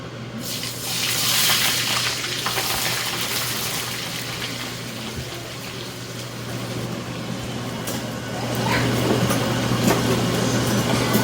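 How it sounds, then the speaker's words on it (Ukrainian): A steady, broad sizzle of onions frying in hot oil for plov, a constant crackling hiss with a low hum underneath, swelling slightly toward the end. "Обжарюємо цибулю."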